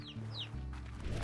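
Chickens clucking in the video game Slime Rancher: a few quick, bright clucks over a steady low hum in a brief, close burst.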